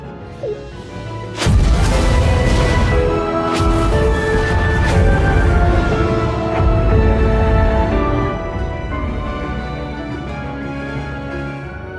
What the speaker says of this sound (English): The destruction of the entire world. Explosions everywhere.